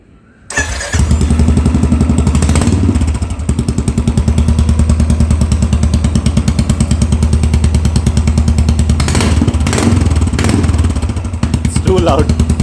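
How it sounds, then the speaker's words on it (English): A Royal Enfield Classic 350 BS6 engine running with the silencer removed, firing up and settling into a loud, raw, rapid thumping idle with brief revs, close and continuous over nearly the whole stretch. "Now let us just listen to this sound without a silencer."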